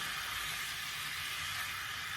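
Salmon sizzling in a frying pan, a steady, even hiss of hot oil and bubbling with no gaps, moderately quiet and unbroken throughout.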